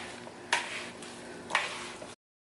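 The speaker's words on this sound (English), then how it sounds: "I'm going to give that a nice stir" Beans and sweet potato filling are stirred in a pan, giving a soft scraping, sizzling texture with two brief louder scrapes about a second apart, close and steady before cutting off.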